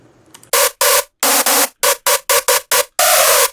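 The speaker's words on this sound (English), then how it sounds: "it's basically just white noise" Bursts of harsh, hissy synthesized white noise from a Serum synth, chopped into a rhythmic dubstep pattern, loud and close, with short gaps between the chunks and a longer final burst.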